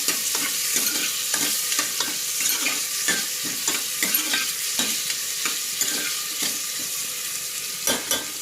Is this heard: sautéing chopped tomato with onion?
yes